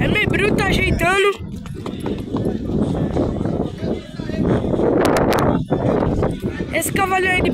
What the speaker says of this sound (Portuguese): É um animal, um cavalo capado.